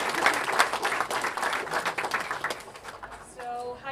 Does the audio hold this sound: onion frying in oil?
no